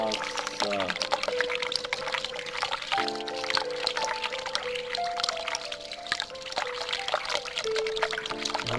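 Water pours and trickles steadily as something is filled up in the video game The Cat Lady, a continuous liquid stream alongside tonal game sounds, with a voice talking over it.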